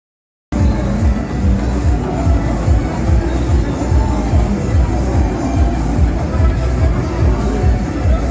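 A large crowd roars at an election campaign finale, a loud, dense hubbub of many voices with rhythmic pulsing swells throughout, after a brief silent lead-in.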